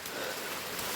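Steady rain falling outdoors during the monsoon in the Malnad hills, a dense even hiss with no breaks, fairly soft and continuous throughout.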